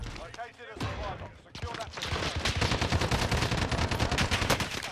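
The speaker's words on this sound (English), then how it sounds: "We're getting shot from the other side as well" Rapid automatic gunfire in the video game Warzone, dense and continuous bursts from close range with a brief lull early on, players talking over the shooting.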